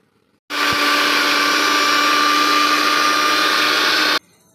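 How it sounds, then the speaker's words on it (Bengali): A mixer grinder grinds melon seeds, cashews and poppy seeds, starting abruptly into a loud, steady high-pitched whirring drone that holds evenly for about four seconds before cutting off. "মগজদানা আর কাজু বাদাম আর পোস্তটা বেটে নিই"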